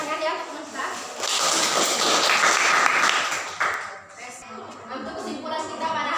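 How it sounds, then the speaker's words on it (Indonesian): Classmates clap for a presenting group in a school class, a dense burst of applause lasting several seconds with voices mixed in underneath. "Tepuk tangan ya teman kita."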